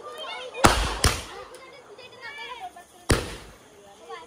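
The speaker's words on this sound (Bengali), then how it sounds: "ওদের ঘরের সামনে খালি জায়গা পেয়েছে বম ফাটানোর জন্য" Firecrackers bursting outside a house, with three sharp, loud bangs spaced over a few seconds and a quieter pop in between, set against faint background chatter.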